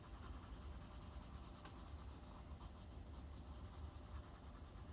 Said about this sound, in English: I'm coloring in the whole thing with my 2B pencil